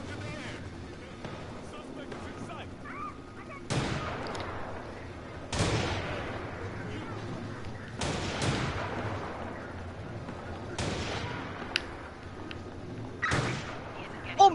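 Heavy guns in a video game firing as a series of sharp, booming shots spaced a couple of seconds apart, each trailing off in a short decay, with steady background noise and talk between blasts.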